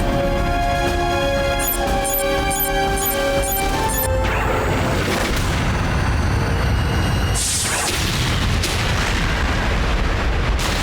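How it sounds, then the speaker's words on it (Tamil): A volcano erupts in a Motu Patlu cartoon: after a few seconds of tonal music, a loud, roaring, crashing blast takes over and rumbles on steadily to the end, with no talking. "அங்க பாருங்க வால்கேனோ வெடிச்சிடுச்சு"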